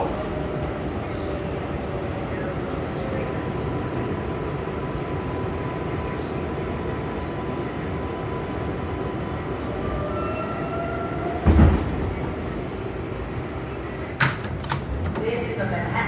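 An R142A subway train running on the New York City 4 line as a Manhattan-bound express, with steady loud rumble and rail noise throughout, brief sharp clanks near the end, and a recorded announcement voice over the running noise.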